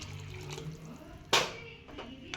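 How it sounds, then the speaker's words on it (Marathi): Water poured into a pan of chickpea curry gives a brief splashing gush midway, with fainter trickles and spatters after it, close by over a low background hum. "आता मला इथं पाणी टाकून घेऊ"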